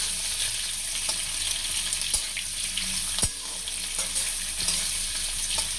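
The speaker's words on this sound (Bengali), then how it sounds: "আর আলুটা আমি কেটে রেখেছি, এটা এখন আমি ভেজে নেব।" Cut potatoes fry in hot oil in a pan for mutton keema, a steady close sizzle broken by a few sharp utensil knocks and clicks.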